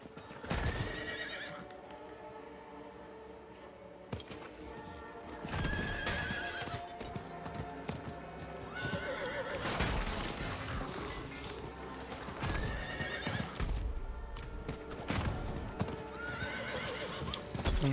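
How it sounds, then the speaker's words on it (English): A horse in the video game Diablo 4 gallops with steady, close clip-clop hoofbeats, breaking into several loud neighs and whinnies over ambient game sound. "I've got a horse now."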